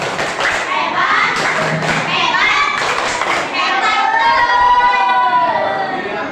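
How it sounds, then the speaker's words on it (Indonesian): Classroom children clapping for their teacher, a dense burst of applause mixed with chattering kids' voices and bumps, fairly loud and close throughout. "tepuk tangan dulu untuk Bapak"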